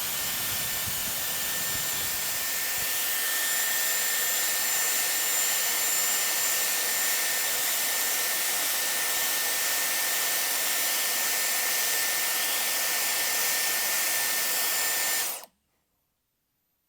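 A Dyson hair styler blows hot air at full speed and full heat, a loud, steady, high-pitched whoosh that holds evenly for about fifteen seconds before cutting off abruptly into silence.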